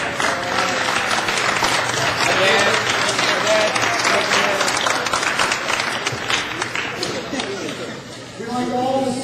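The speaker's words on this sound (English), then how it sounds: "I want every young man in this room to stand up and turn around and applaud your parents for all the support they've been giving you" Audience of young basketball players at an awards banquet applauding their parents, sustained dense clapping with crowd chatter throughout, fading slightly near the end.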